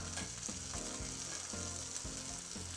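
Green beans bubble at a full rolling boil in a pot, a steady hissing churn with repeated soft bursts from breaking bubbles, close and continuous with no voices.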